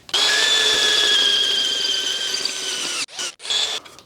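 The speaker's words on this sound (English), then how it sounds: "I'll just drill a hole and show you" A hand drill bores a hole through a metal bumper bracket for a Rover P4, giving a loud, steady high-pitched squeal for about three seconds before it stops and restarts in short bursts.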